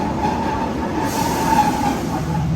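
A train pulls out of Newport station, facing backwards on its way toward Shrewsbury and Welshpool. Its steady rolling rumble is close and even, with a faint wheel tone running through it.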